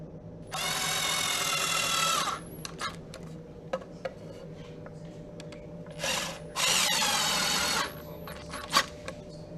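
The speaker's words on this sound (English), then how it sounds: "When you drive the screws, they will pull the shelf into alignment." Power drill driving screws into a wooden shelf using Kreg tools, in two long whirring bursts separated by a pause, close and loud, with small clicks and knocks between runs.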